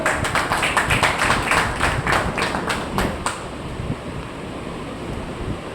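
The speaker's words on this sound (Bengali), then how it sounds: "জোরে হাত তালি হোক।" An audience claps in a meeting hall at a social workers' gathering, a burst of rhythmic applause that fades out after a few seconds, leaving faint room noise.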